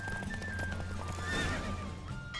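A horse gallops in a race in The Witcher 3, rapid clip-clop hoofbeats with a whinny and a high neigh over steady game ambience.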